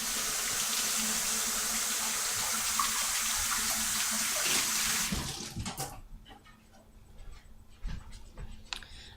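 Tap water runs steadily into a sink while flat leaf parsley is rinsed beneath it, then shuts off after about five seconds, leaving faint drips and handling sounds.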